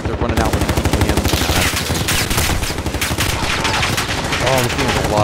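Light machine gun fire in a combat video game, sustained rapid bursts of loud, closely spaced shots rattling without pause, with voices talking underneath.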